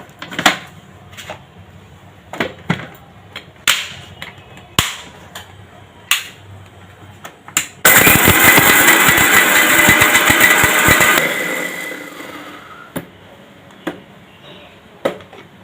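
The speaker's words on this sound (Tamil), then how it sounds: "இந்த காய்ந்த மிளகா, ஊற வச்ச புளி, கொஞ்சமாக உப்பு சேர்த்து மிக்சியில் போட்டு அடிச்சிடலாம்" A kitchen mixer grinder whirs loudly for about three seconds, grinding dried red chillies with soaked tamarind and a little salt, framed before and after by sharp clattering taps and knocks from handling the jar and lid.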